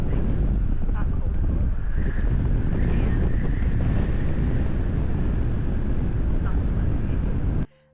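Steady wind buffets the microphone at Ponce Inlet Lighthouse, a continuous rushing roar that cuts off abruptly at the end.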